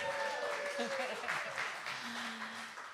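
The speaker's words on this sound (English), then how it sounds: "Give them a big applause." Audience applause for performing artists on a live songstage show at Campus JAX, a steady wash of clapping that fades slightly toward the end, with sustained tones and a voice running over it.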